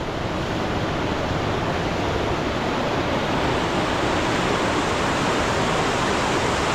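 A tall waterfall in the Konkan region, beside the Mumbai–Goa highway, roars steadily and loudly, a dense unbroken rush of falling water close by.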